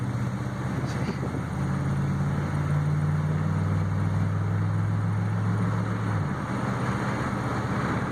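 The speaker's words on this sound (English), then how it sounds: "You hear how smooth it shifts through all the gears." A Chevy truck with a brand new motor runs steadily, its engine hum rising and falling as it shifts through the gears, then settling back to a lower drone.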